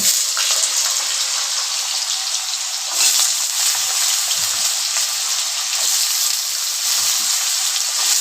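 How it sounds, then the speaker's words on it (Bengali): Split mung dal lightly frying in a pan for a Bengali mochar ghonto, with a steady bright sizzle that swells a little partway through and is heard alone, fairly close. "একটু ভেজে নেব হালকা।"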